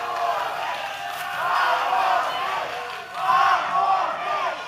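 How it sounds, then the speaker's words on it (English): A live wrestling crowd chants in rhythmic unison after a match is ruled a draw, a loud, sustained roar of many voices rising and falling in waves. "the crowd obviously not happy, chanting "Let them fight" here"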